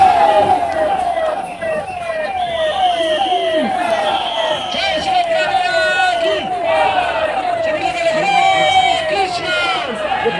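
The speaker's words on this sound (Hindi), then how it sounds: "उसको लेके जा रही है एम्बुलेंस" A wailing ambulance siren rises and falls repeatedly over a loud, dense crowd at the Jagannath Rath Yatra festival procession, with shouting and other horns mixed in.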